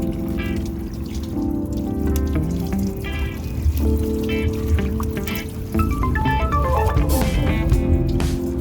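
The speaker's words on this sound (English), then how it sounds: "We're going to use hot water and slowly pour it on the battery terminal, and that should clean it up." Hot water is poured slowly over a corroded car battery terminal, giving a close, steady trickling and splashing stream with a faint fizz and bubbling that continues throughout.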